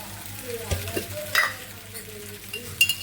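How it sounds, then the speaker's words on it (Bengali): Pasta with tomato sauce is stirred in a frying pan, giving soft scraping strokes of a spoon over a quiet, steady sizzle. A few brighter clinks stand out against the metal pan. "ভালো করে মিশিয়ে নেব"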